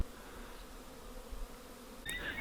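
Continuous faint buzzing of a swarm of about 50,000 honeybees in the open air, heard from a distance, with a short electronic beep near the end.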